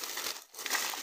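Plastic packaging crinkles up close while being opened, a dense, bright rustling that briefly drops away mid-moment before surging back; nobody speaks.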